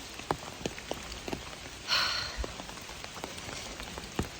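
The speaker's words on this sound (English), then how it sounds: "Hiking in the rain again." Steady rain falling on a hiking trail in the Great Smoky Mountains, a continuous hiss with scattered drops pattering nearby and a brief louder gust of rain midway.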